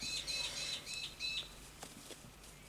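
Birds chirp outside after rain, a series of high, repeated tweets near the start fading into a damp background hiss, with no talking.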